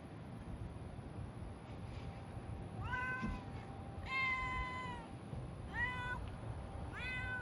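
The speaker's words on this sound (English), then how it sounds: "I'm not trying to feed this cat." A neighbour's cat meows repeatedly outdoors, several rising and falling cries in a loose sequence. The calls come over a steady noisy background, and no one speaks.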